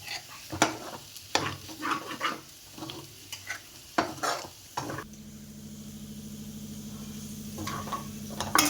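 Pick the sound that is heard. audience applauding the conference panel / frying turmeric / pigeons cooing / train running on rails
frying turmeric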